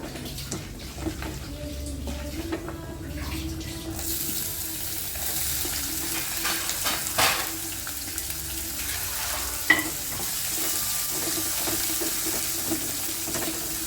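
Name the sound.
green chili, ginger and onion frying in pan for rava breakfast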